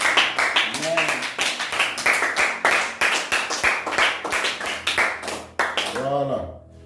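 A church congregation claps in a brisk, steady rhythm while voices call out in acclamation of the Lord, ending abruptly.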